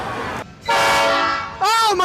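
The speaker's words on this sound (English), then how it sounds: "Listen to that horn!" A passing train sounds its horn inside a station building, two loud sustained blasts separated by a brief gap, ringing and echoing close by.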